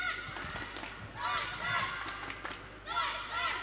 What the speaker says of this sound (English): the crowd goes wild, cheering up for Germany